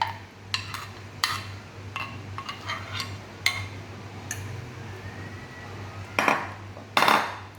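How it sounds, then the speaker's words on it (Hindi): A spoon scrapes and clinks against a bowl while fruit chaat is tossed with sauce, giving scattered sharp taps and a few louder clanks near the end, with no talking. "अब हम इसी तरह मिक्स कर लेंगे।"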